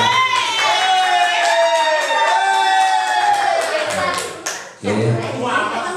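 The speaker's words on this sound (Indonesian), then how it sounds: "Tepuk tangan saya." A seated group at a school presentation claps in a brisk burst that fades out, then a smaller second round of clapping follows, with voices over the applause.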